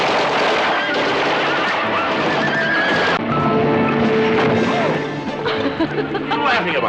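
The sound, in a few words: horses panicking at gunshot in a Western film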